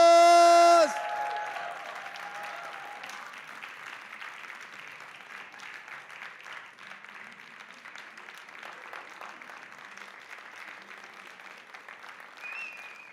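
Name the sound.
audience applause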